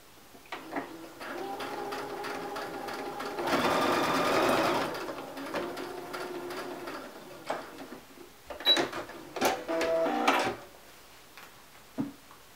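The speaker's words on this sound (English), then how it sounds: "I'm going to start stitching at one leg. Go all the way around, stop with my needle down here to turn" Sewing machine stitching around a fabric bunny, with several bursts of rapid mechanical whirring separated by pauses and small clicks as the fabric is turned, close and fairly quiet.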